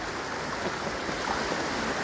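River water flows with a steady broadband rush and gurgle beside a roadside pull-off, close and constant at a moderate level with no talk over it.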